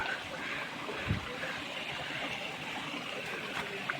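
Fresh water flows steadily at Datar, where people wash their hands and feet, giving a soft continuous rushing trickle with faint distant sounds.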